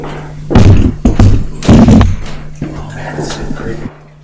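Door thuds shut in a dark opera house stairwell late at night, a few heavy knocks and slams close by, with people talking and moving around it.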